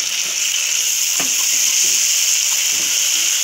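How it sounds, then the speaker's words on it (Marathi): Masala fries with browned onion in oil for a spicy soya chunk curry, giving a loud, even, close sizzle with a few soft stirring knocks and no talking. "आपण त्यामध्ये मसाला चांगला असा भाजून घेऊ"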